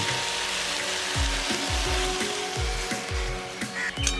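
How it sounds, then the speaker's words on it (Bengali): Water pours into a hot pan of tilapia fish curry with pumpkin vine shoots and leaves, giving a loud, continuous hissing sizzle with some low clattering knocks underneath. "এবারে দিয়ে দেবো পরিমাণ মতো জল"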